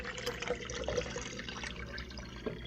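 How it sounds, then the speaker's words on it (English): Waterglass solution poured gently into a container already holding eggs, giving a soft, steady liquid trickle and splash with a few small drips throughout, close by and without talk. "Pour it gently in because I already have eggs in here to begin with."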